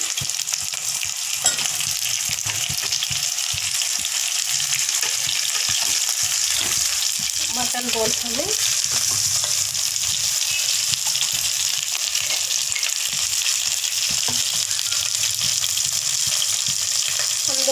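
Mutton bones frying with onions, green chilies, curry leaves and cumin in a pan, a loud, steady, close sizzle lasting throughout, with occasional stirring scrapes.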